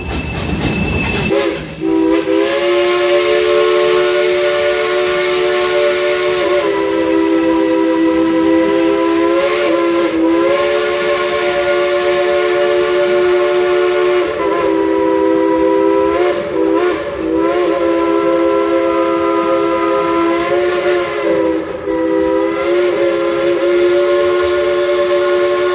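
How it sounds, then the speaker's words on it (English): A steam train whistle blows loud and sustained for more than 20 seconds, a layered, chord-like tone with a few brief dips and restarts over a hissing background. No one talks. "Let's tell that engineer to blow the whistle."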